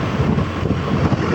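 Cold wind buffeting a microphone during a road trip toward the coast, a steady, loud low rumble of gusts with no voices.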